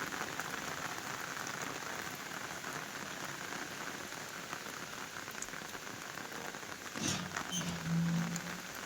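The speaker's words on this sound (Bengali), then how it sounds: "দেখেন বিরাট বৃষ্টি হচ্ছে" Heavy rain pours steadily onto surfaces outdoors near where pigeons feed, a dense continuous hiss with a brief low hum and a few sharper sounds near the end.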